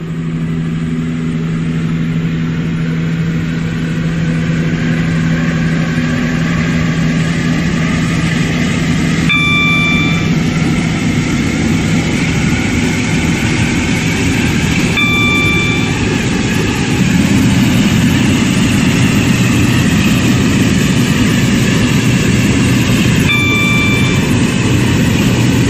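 A Class 168 diesel train in the Stepford County Railway game runs steadily with a loud, continuous engine drone that builds and shifts in pitch, broken by a few brief chime-like tones, with no voices.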